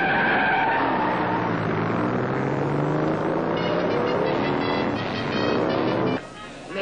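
Animated 1969 Hot Wheels desert race cars roar off the line, a loud blend of revving engines and long tire squeals and skids with pitch swoops, ending abruptly in a brief burst of hiss.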